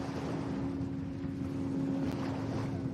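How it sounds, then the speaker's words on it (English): Two-stroke 300 XS outboard engines drive the Skater 28 superboat in an offshore race on Lake Macquarie, a steady, loud, droning hum with a constant tonal whine, mixed with water and wind noise, no voices. "Cool to hear the 300 two-strokes on the back of Skater 28. 300 XS two-stroke engines."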